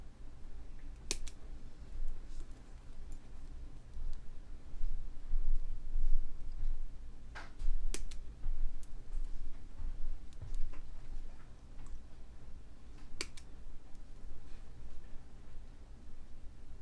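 Sharp scissor snips trimming strand ends on handmade rustic multi-strand bracelets, a few crisp isolated clicks spaced several seconds apart over a quiet room hum.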